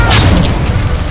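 An Incendio fire spell cast in Hogwarts Legacy erupts as a loud, close burst of whooshing flame with a deep boom at the start, then a rumbling roar that holds steady to the end.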